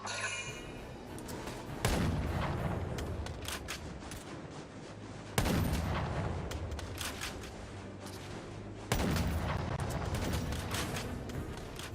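Gunfire in the Valkyria Chronicles 4 video game: three heavy bursts of shooting, each a sharp loud onset followed by rattling, decaying fire, spaced a few seconds apart with no voices.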